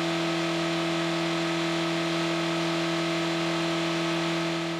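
An engine runs at sustained high load on a test stand during a 300-hour endurance test, a loud constant drone with strong steady tonal hum and no talk.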